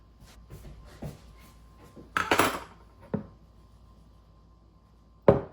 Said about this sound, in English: So I'm just going to use a knife here to stir it in.